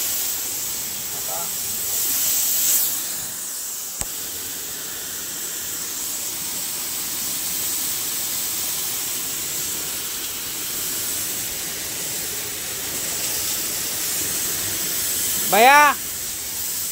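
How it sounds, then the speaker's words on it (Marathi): Water jets hiss steadily as the interior of a bus is sprayed during a wash, a broad continuous spray running through the whole stretch with brief voices calling out near the start and end. "आता बस आता अख्खी आतून पाणी मारून झाली बरं का"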